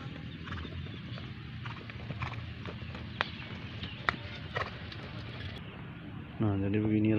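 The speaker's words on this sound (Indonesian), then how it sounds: "Ini kuda-kuda yang sudah selesai berlatih dan juga masih ada yang terus berlatih" Racehorses training on the dirt track at the traditional Gayo horse race grounds, hooves clip-clopping in an irregular rhythm at moderate distance amid outdoor crowd murmur, with a low droning engine swelling in at the end.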